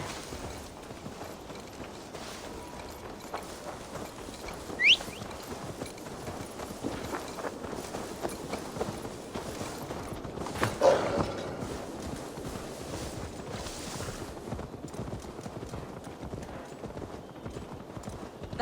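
Horse hooves clip-clopping in the Assassin's Creed Valhalla video game, a soft steady gait beneath creaking tack and game ambience, with a couple of brief louder knocks along the way.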